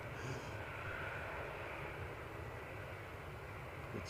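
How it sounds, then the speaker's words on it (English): A British Airways Airbus A319 arrives from Heathrow at a windy Edinburgh Airport, its engines a steady distant roar under wind, with no talk. "the aircraft we are gazing on is British Airways inbound from Heathrow. It's an Airbus A319"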